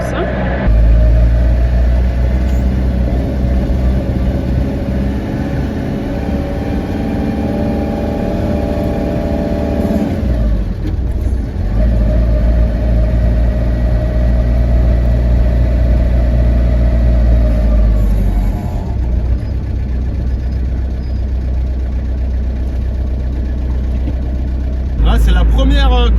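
Camper truck engine rumbling steadily while driving through city traffic in Tours, a low continuous drone that eases off briefly and returns, with someone talking over it throughout.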